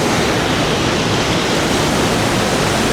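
Steady roar of a waterfall on the walking route up Helvellyn from Thirlmere, a dense, continuous rush of falling water close by with no voices.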